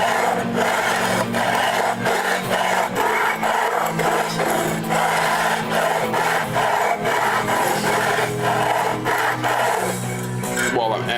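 Steady, rhythmic rasping strokes of sandpaper rubbed across the wooden body of an Ibanez or Sterling guitar, close and loud, continuing without pause for the whole stretch.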